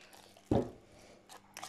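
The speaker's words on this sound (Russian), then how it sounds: "Теперь все еще перемешаю вилкой." A fork mixes a soft herring paste for sandwich spread, making a single short, wet squish against the bowl, with faint quiet scraping afterward.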